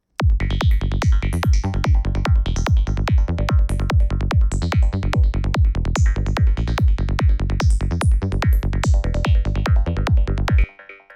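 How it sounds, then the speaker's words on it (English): Rapid repeated percussive hits ring with a bright, metallic, echoing texture made with a delay effect, each strike followed by a quick resonant decay, continuous and loud. "adding this kind of metallic texture to our sounds"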